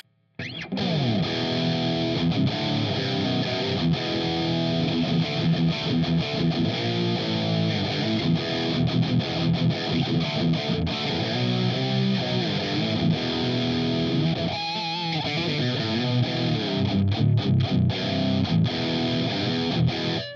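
Heavily distorted electric guitar on the bridge pickup, played through a Tech 21 Marty Friedman SansAmp preamp pedal in high-gain mode, plays chugging metal riffs and chords, thick tone, loud and continuous with a brief pause midway.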